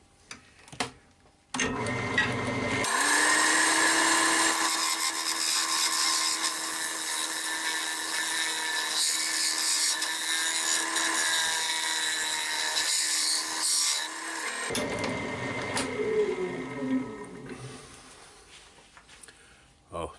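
A wood lathe turning a winged iridescent bowl, with a tool cutting wood in a continuous close scraping whir for about twelve seconds, bracketed by brief quieter spinning and handling noises.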